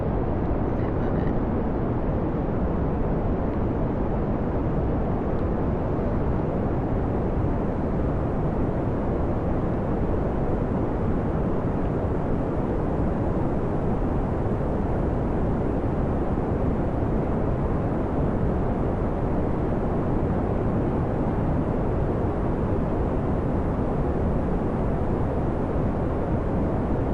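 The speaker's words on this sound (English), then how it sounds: "How loud are the rocket engines for you? Because for me, they're like really loud." Rocket engines in the video game Kerbal Space Program give a loud, unbroken, broadband roar that holds steady for nearly half a minute with no breaks.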